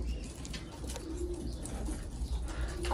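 Pigeons coo softly in a coop, low and repeated, over steady background noise with no voices.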